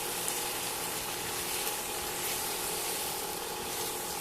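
Paneer cubes sizzle in soy sauce and chili sauce for chili paneer, a steady, close, even hiss of frying with no breaks and no voices.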